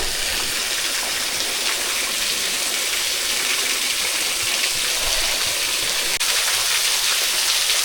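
Lost Creek Falls pours in a steady, full roar of rushing water that fills the whole scene evenly from start to finish, close and loud with no voices over it.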